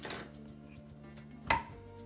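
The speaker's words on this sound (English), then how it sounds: "And then finally, I'm going to get out a lime. Give that a slice in half." A knife cutting a lime in half on a kitchen board, two short, sharp close knocks about a second and a half apart, with a faint steady hum between them.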